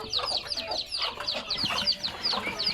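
Young native chickens, about two months old, at a farm in the evening: a steady stream of soft clucks and high peeping chirps from several birds, close by and continuous.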